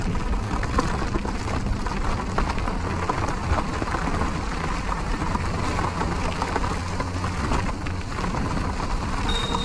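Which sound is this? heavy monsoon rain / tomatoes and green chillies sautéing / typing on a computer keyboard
heavy monsoon rain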